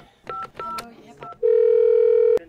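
A telephone call being placed: several short dialing tones and beeps in quick succession, then a long steady ringing tone ending abruptly, clear and close with no talk over it.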